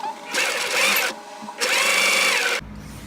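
A sewing machine motor whirs loudly in two sustained bursts as the pedal is pressed, with a short pause between them, then stops.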